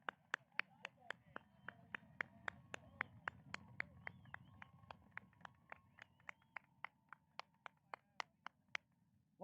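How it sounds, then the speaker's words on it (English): Sparse, crisp hand claps at a 2021 high school graduation, a single steady rhythm of about three claps per second over a faint background, quiet and fairly close, with a sudden louder sound at the very end. "Another round of applause here for our class of 2021"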